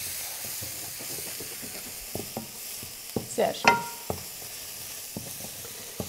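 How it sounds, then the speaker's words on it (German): Shallots roasting in a pan previously used for rib-eye steak, a faint steady sizzle with scattered stirring clicks and scrapes, a few louder knocks near the middle, and brief talk over it. "Also du Schalotten anrösten."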